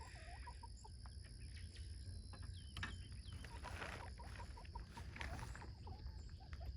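Chickens and roosters on a homestead cluck and call in short bursts against a steady low outdoor rumble, the birds moderately close and fairly faint.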